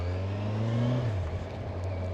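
A 2017 Kawasaki Ninja Z1000SX motorcycle engine revs loudly nearby, with a strong droning tone whose pitch drops partway through as the revs fall back.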